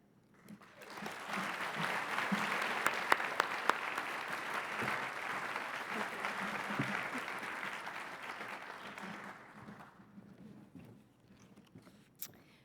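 A breakfast event audience breaks into sustained applause to welcome a speaker, steady and fairly distant, swelling over a second, holding for about eight seconds, then fading out.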